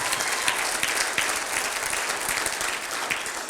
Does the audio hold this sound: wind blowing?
no